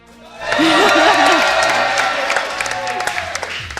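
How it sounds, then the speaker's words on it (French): Studio audience applause for the host of a French duel-style game show at a live podcast event, loud broadband clapping swelling in after a brief voice and staying dense, with some cheering mixed in. "Il y a un autre animateur et on applaudit Johnny"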